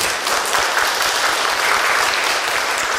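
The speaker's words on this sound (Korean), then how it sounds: "그래서 박수 한번 치고 갑시다" Dense, loud applause from an audience at a Buddhist dharma assembly on the Avatamsaka Sutra fills the whole stretch as a steady wash of many clapping hands, with no talk over it.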